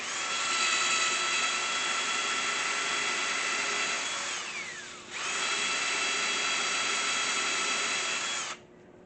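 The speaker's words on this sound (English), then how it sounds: "So let's drill a little hole, just a little." A high-pitched drill whines steadily while boring a small hole on a lathe, briefly slowing and dipping in pitch midway before spinning back up, then cutting off abruptly near the end.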